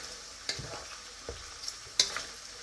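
Bacon strips fry in a pan until crispy, with a faint low sizzle and a few soft scraping and tapping sounds from stirring, heard close and quiet.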